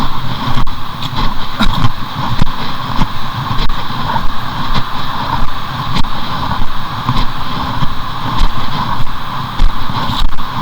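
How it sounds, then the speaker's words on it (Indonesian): Water rushes loudly and steadily at a dam near a waterfall, a dense roar close by with occasional clicks and bumps and no voices. "Ini tuh bendungan airnya guys."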